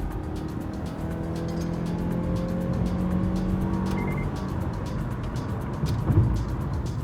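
A Mazda CX-5 with sport mode engaged drives along, its engine and road noise forming a steady, continuous hum with a faint rise in effort near the end, heard from inside the car.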